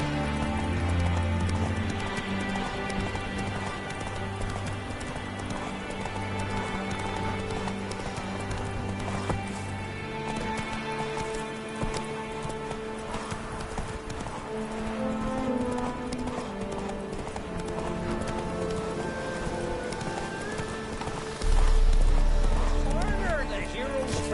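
Horse hooves clip-clop steadily at a gallop in The Witcher 3, a continuous rhythmic pounding mixed with game music and ambience, with voices talking over it throughout.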